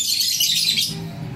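A pet bird at a flight feeder gives a quick run of bright, high chirps, close and fairly loud, lasting under a second before fading into quiet room noise.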